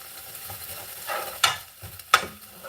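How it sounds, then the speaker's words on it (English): Butter melts in a frying pan ahead of making a French toast sandwich, a faint low sizzle broken by two sharp scraping clinks of a utensil against the pan. "I'm gonna melt this butter a little bit."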